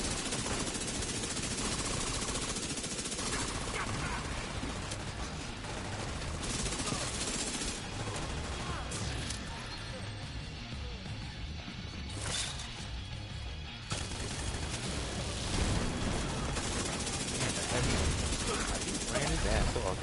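Dense gunfire in The Division 2, rapid automatic bursts and sharp impacts filling the whole stretch almost without pause, with players talking over the shooting.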